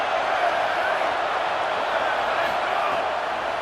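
Stadium crowd at a college football game in College Football 27, a steady broad roar of cheering spectators that holds at an even level throughout while a commentator talks over it.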